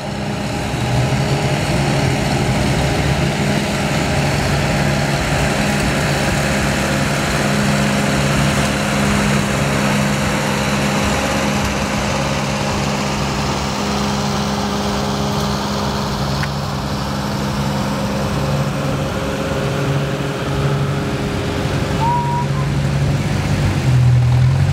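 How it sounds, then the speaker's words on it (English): Antique tractors chug along steadily in the 2017 Lakefest tractor parade at a historic machinery show, their low, droning engines running continuously at moderate distance for the whole stretch. "This is the 2017 Lakefest tractor parade."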